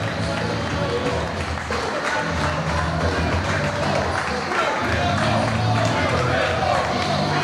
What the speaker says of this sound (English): And the real Pitbull chants coming from the crowd that made him famous here in Philadelphia